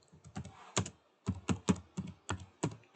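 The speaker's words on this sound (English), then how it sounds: "Then we're going to type the header as purchase" A computer keyboard is typed on at close range, sharp separate keystroke clicks in short uneven bursts with brief pauses between them.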